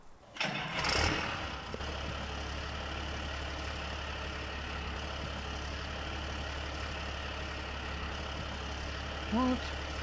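A tractor engine in Farming Simulator 2019 cranks and catches with a brief surge, then settles into a steady low idle drone that runs unbroken, with a short blip near the end.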